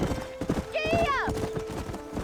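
A horse in the Red Dead Redemption video game trots with rhythmic clip-clopping hooves and gives a short whinny partway through, while a voice talks over the hoofbeats.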